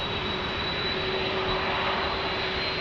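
A UPS Boeing 767 jet at San Diego airport gives a steady, even roar with a faint whine in it, held at a constant level throughout, no voices.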